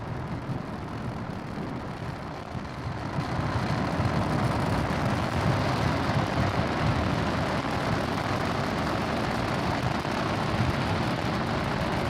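A SpaceX Falcon 9 rocket climbs through ascent on the SXM-7 launch, its engines a heavy, continuous broadband roar that swells louder after the first few seconds and holds steady, with no voices.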